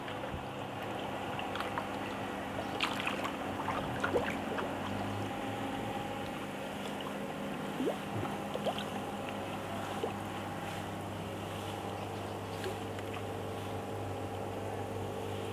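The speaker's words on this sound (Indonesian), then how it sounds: "Dan ini mesin aeratornya, kita menggunakan mesin LP100 3 buah." Three LP100 aerator pumps run beside a biofloc tilapia pond, giving a steady, continuous mechanical hum and bubbling drone with faint splashes and clicks, no talking.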